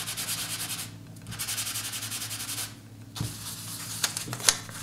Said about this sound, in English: now I rub the stone